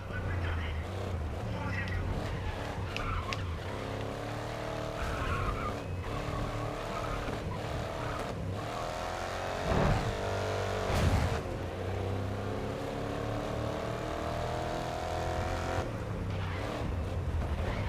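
Racing truck in GRID Legends with a roaring engine and long tyre squeal as braking is missed, loud and continuous with brief rises, while someone talks over the top.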